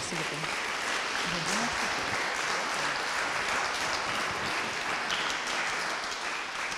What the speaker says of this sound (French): Je vous propose d'applaudir Anna.